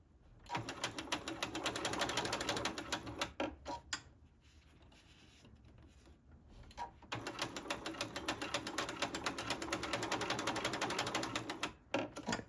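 A sewing machine stitching binding onto quilted sneakers runs in fast rhythmic bursts of mechanical clatter, pausing briefly in the middle before stitching again, close and fairly quiet.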